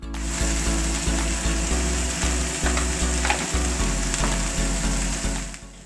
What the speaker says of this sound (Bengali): দিয়ে সবজিটা আবার ভেজে নিচ্ছি